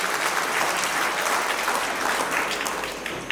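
A hall audience applauds to welcome a guest speaker at an alumni gathering, with steady, loud, dense clapping throughout that tapers slightly at the end.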